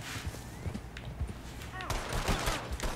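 Gunfire in the video game Red Dead Redemption 2 Online, a close burst of overlapping shots that thicken toward the end, with players talking excitedly over the firing.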